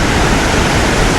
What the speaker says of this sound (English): And here is the proper waterfall.